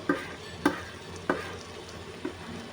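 A spoon stirs chilli powder, salt and coriander powder into a Chettinad fish curry in a pan, giving three or four sharp scrapes against the metal over a soft, quiet sizzle.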